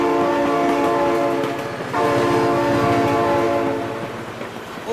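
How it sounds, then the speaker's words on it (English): A train in the BeamNG driving game passes with its horn blaring, a loud sustained tonal blast over rumbling, clattering wheels, briefly dipping before sounding again and fading slightly. "Oh my god, train!"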